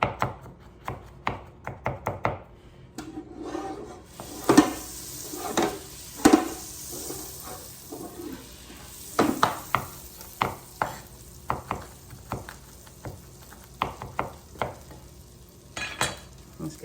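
Garlic cloves are chopped for shrimp scampi, a knife striking a cutting board in quick, uneven bursts of sharp close taps, with faint sizzling from a pan beneath and short pauses between runs.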